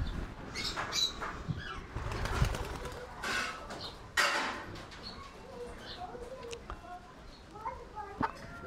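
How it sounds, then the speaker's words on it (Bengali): Pigeons and chickens in a backyard coop, with soft cooing, clucks and bursts of wing flapping as a pigeon takes off. The sounds are intermittent and moderately close, and someone talks over them. "এই যে আরেকটা কবুতর উড়ে গেল।"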